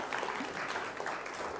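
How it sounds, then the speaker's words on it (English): A startup conference audience gives a round of applause for a remote speaker: a soft, continuous patter of many hands, fairly distant and even throughout, with no speech over it. "you can give a round of applause"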